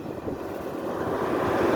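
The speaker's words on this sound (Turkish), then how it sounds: "Aa burada bir rüzgar çıktı göresiniz." Steady wind buffets the microphone with a low, rumbling roar that swells slightly and never lets up.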